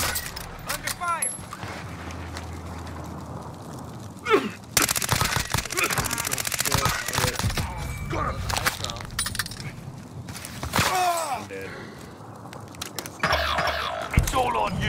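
Gunfire in the battle royale game Warzone crackles in sharp bursts and clusters of shots, loud and close, mixed with in-game impacts while players shout and talk over it.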